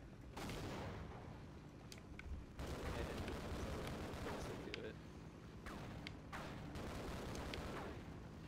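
Grenades and gunfire in the shooter game Half-Life: Decay, loud repeated blasts and crackling shots packed densely across the span with brief lulls, voices talking over the noise.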